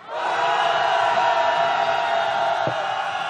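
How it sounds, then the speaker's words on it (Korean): Candlelight rally protesters near a city hall plaza roar together in one sustained mass shout, loud and unbroken for about three seconds after a brief rise, with no separate voices standing out. "우리의 함성이 들릴 수 있게끔 함성 다시 한번 질러보겠습니다"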